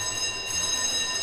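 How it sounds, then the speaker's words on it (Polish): An alarm rings steadily in a Minecraft laboratory, a continuous high-pitched electronic tone at moderate level with a faint low murmur beneath. "więc tu nawet alarmy mamy."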